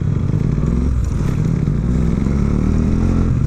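A close, loud motorcycle engine drones steadily while riding through traffic, with continuous wind and road roar and occasional rattles.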